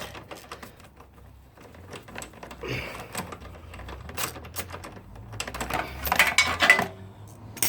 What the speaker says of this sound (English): Socket and everything falls out.